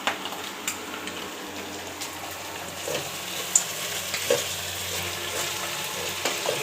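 Bitter gourd (karela) sizzles gently in oil, a soft continuous frying hiss with occasional faint clicks and scrapes of a utensil, fairly quiet and close.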